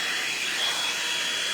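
A handheld blow dryer runs continuously while drying hair, a steady, close, loud rushing whoosh with no change in pitch and no speech.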